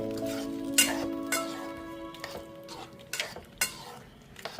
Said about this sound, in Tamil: இப்போ தாளித்ததாக மாங்காய் பச்சடியில் கொட்டணும் கொட்டிட்டு நல்லா கிளறி விட்டுட்டு